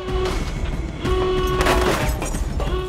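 A train in the Rogue Warrior video game rumbles loudly with a steady rolling roar, while a sustained horn-like tone sounds twice over the noise.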